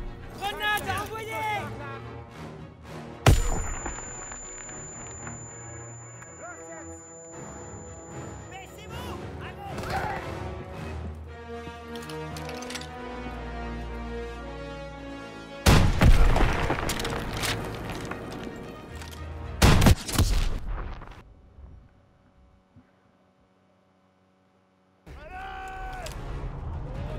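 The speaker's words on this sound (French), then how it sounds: "Grenade à envoyer!" A WWII battle reenactment of Aachen, October 1944, with a grenade blast and gunfire: a few loud, sharp full-range bangs burst out among stretches of music and French voices.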